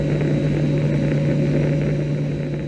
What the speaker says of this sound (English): I'm now aboard a US Navy aircraft